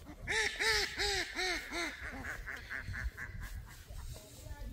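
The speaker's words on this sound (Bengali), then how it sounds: "চিরাচরিত হাঁসের ডাক" A native duck quacks loudly in a quick run of about six calls, followed by softer scattered quacks close by, on a sunny winter morning.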